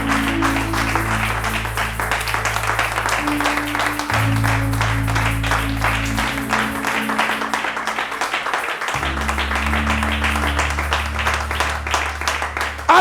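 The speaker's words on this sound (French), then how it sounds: "Lève-toi, acclame Jésus" A church congregation claps and cheers steadily and loudly, with sustained sung or organ-like tones underneath.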